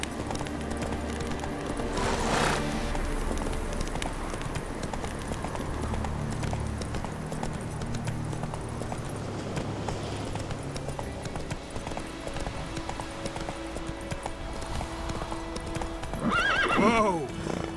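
Hoofbeats of a galloping horse in The Witcher 3 video game clip-clop steadily and close, then the horse gives a loud neigh near the end. Voices speak in between.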